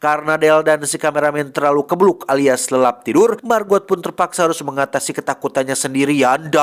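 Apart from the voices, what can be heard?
None of the usual background noises is heard.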